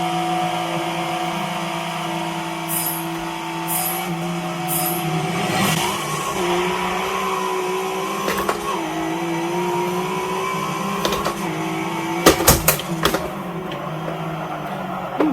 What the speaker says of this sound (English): Once again, rolling start. Start in second gear.